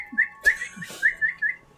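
A person whistles to imitate a little bird during a tabletop Dungeons & Dragons game, giving a close, clear run of short, bright chirps in quick bursts.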